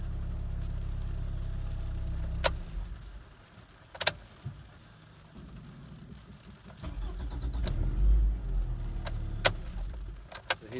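A 2004 Toyota Wish engine starts after its starter motor was replaced, with a brief crank and a catch settling into a quiet idle, and a few sharp clicks and knocks from the cabin around it.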